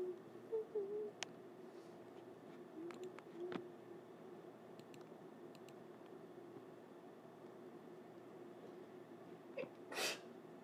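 A single person's sneeze bursts out sharply near the end, close and fairly loud against a quiet, steady background hiss during a livestream.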